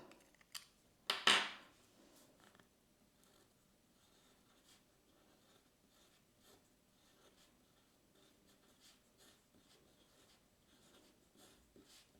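Fountain pen nib scratching across Japanese paper, one brief louder stroke near the start, then faint, scattered scratches in a quiet room.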